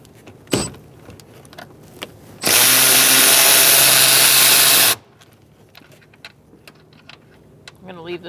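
A power tool, likely an impact gun, spins off a nut on a 2002-2006 Toyota Camry rear strut mount in one loud continuous burst of about two and a half seconds, with light clicks and handling noise before and after.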